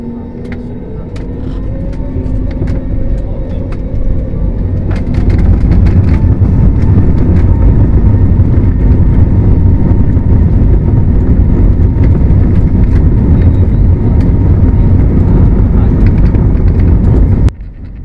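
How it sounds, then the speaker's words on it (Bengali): An airplane speeds down a runway for takeoff, a loud, sustained roar and rumble that swells after the first few seconds and then holds steady and close until it drops away at the very end. "রানওয়ে থেকে দ্রুত গতিতে বিমানটি ছুটে চলছে আকাশে ওড়ার জন্য"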